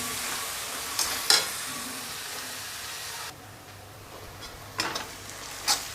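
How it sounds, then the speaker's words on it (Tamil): Salted onions softening in a frying pan, a steady sizzle with occasional spoon scrapes and knocks against the pan, the frying noise dropping quieter midway; no speech. "வெங்காயம் நல்லா வதங்கிட்டு இருக்குது"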